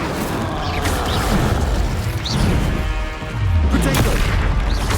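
Incendio fire spell cast in Hogwarts Legacy, a rumbling whoosh of flame with booming bursts and crackling impacts amid continuous game combat noise, loud and dense throughout.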